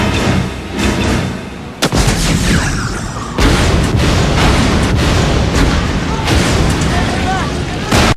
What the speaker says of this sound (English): Devo shoots an unnecessary rocket at a small mound of tires